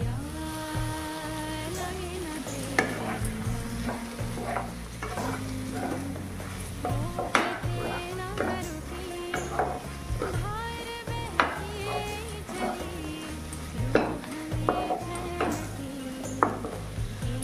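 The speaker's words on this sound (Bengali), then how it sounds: "মোটামুটি 5 থেকে 7 মিনিট সময় নিয়ে আমি সব কিছু খুব ভালো করে কষিয়ে নিয়েছি।" Dried loitta fish sautéed with beans and coriander in a pan, a spatula clinking and scraping repeatedly against the metal in an uneven rhythm over a soft sizzle, with no voices.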